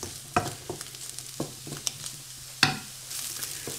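Sweet potato pieces pan-frying for a vegan sweet potato and spinach coconut sauce, with a low steady sizzle broken by several sharp clinks and scrapes of stirring, close and moderately quiet with no talk.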